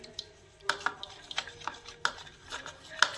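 A brush mixes a cleaning paste in a bowl for cleaning electrical switch boards. It makes a run of quiet, irregular scraping and tapping strokes at close range, with no one speaking.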